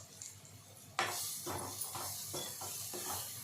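Spoon stirring half a teaspoon of turmeric into a dish in a pan, a quiet scrape at first, then a sudden louder onset of soft sizzling with repeated scraping strokes, no talk.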